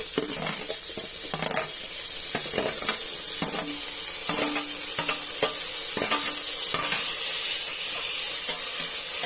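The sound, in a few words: tomatoes added to frying pan, sizzling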